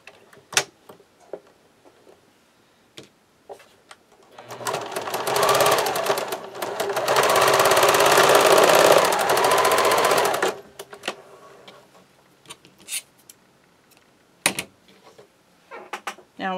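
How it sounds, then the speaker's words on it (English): A sewing machine runs a short burst of zigzag stitches back and forth for about six seconds, a rapid mechanical whir heard close, with scattered clicks and handling sounds before and after. "Then I'm going to sew just a few stitches going down back and forth"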